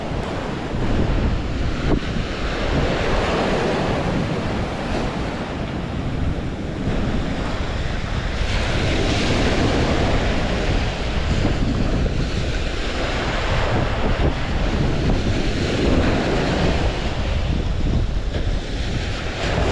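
Strong wind and crashing surf roll steadily on the Lake Michigan shore at Point Betsie beach, waves swelling and breaking in repeated surges under constant loud gusts buffeting close by, with no voices.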